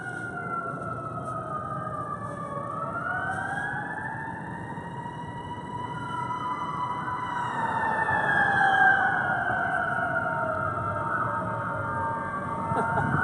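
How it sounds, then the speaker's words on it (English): Emergency sirens wail through a downtown city street, two overlapping tones rising and falling over steady traffic rumble, moderately close and swelling louder toward the end, with no voices. "The sounds of downtown."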